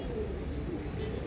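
A pigeon coos with a soft, low, continuous murmur close by, alone and fairly faint throughout the short clip.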